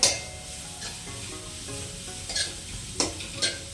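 Already-fried noodles stirred and tossed in a hot pan while making Chinese bhel, with steady sizzling and a few sharp scraping strokes of the utensil.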